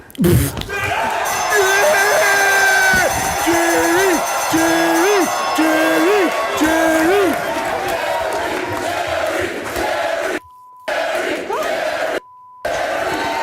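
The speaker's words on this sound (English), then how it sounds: "The crowd chanting and the fight bell ringing is just the cherry on top" A studio audience on the Jerry Springer Show chants rhythmically and whoops in loud repeated bursts, while a fight bell rings sharply, with brief cuts of silence near the end.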